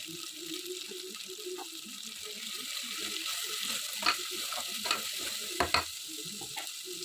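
Ginger and garlic stir-fried in a pan, a steady broadband sizzle running throughout with the scrape of a spatula, a few sharp clacks of utensil against metal near the end; no talking.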